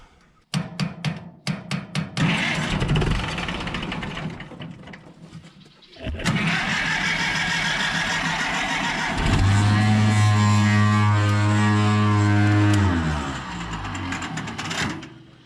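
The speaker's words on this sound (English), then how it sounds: "I had the key off and it started itself." A Cummins 4BT diesel in a Farmall M tractor cranks in quick stuttering bursts, falls quiet, then fires on its own into a loud rumbling idle that deepens to a heavy, steady drone.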